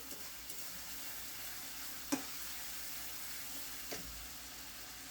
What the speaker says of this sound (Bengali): মশলাটা ভালো করে কষাই নিচ্ছে যত সুন্দর কষানো হবে তত খেতে ভালো লাগবে